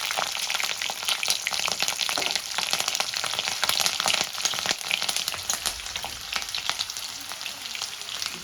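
Whole cumin seeds, bay leaves and whole green chilies crackle in hot oil, giving a dense, close, spitting sizzle that runs without a break.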